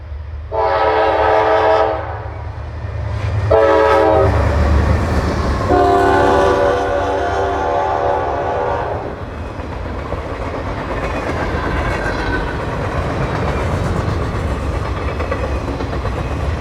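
Freight train 15T, running with ordinary locomotive power, passes close by in cold winter weather, sounding loud repeated horn blasts over a steady heavy rumble and clatter of rolling cars that continues after the horn stops.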